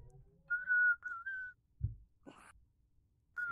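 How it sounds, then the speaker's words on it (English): A person whistles a short, wavering tune of a few sliding notes, close and clear, broken by brief breathy and shuffling noises, in a VRChat session. "How do I mute this whistling dude?"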